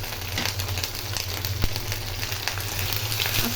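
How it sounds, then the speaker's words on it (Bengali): Ingredients frying in a pan for a rohu fish curry with pointed gourd, a steady close sizzle running throughout over a low hum, with one sharp tap in the middle. "এটাকে এখন একটু ভালো করে ভেজে নেব যাতে কাঁচা গন্ধটা চলে যায়"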